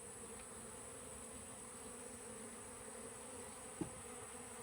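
A few honey bees drone around an opened beehive in a low, steady buzz that carries on evenly throughout, fairly faint and close, with one brief knock near the end and no talk.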